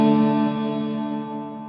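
Strymon Nightsky reverb pedal with its high-cut filter engaged, giving a darker reverb on a sustained guitar chord that decays smoothly over under two seconds, steady and close with no voices.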